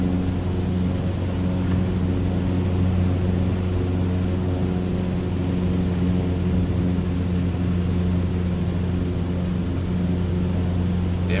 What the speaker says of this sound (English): This is a Cessna 152